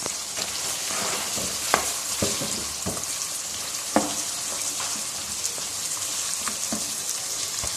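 Mutton chops with spices and kasuri methi are stirred in a frying pan, making a dense continuous sizzle broken by a handful of sharp spatula knocks and scrapes.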